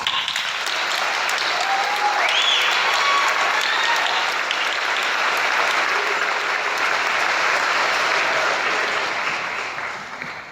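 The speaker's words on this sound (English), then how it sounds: "Congratulations. Give yourselves a round of applause." Sustained, loud applause from a graduation audience congratulating new graduates, a dense wash of clapping that holds steady for the whole stretch and fades slightly at the end.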